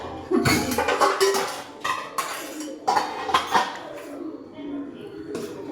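Dishes and a metal wok are scrubbed and knocked about at a sink nearby, with repeated clinks, clatters and rubbing scrapes while people talk throughout.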